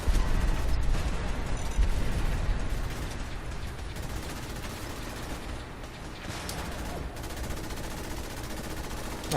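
Steady, loud gunfire rattles through a Fallout 4 battle, a nearly continuous stream of rapid shots and mechanical clatter with no pauses, dense and close.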